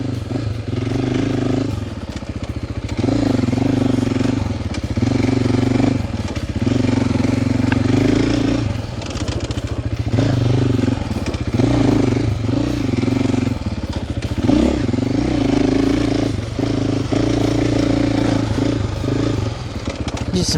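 A 2026 KTM 450 XCF-W dirt bike cruises in third gear on a hot, dry, dusty Texas trail through trees, its engine droning loud and steady throughout with slight rises and dips in throttle, no talk.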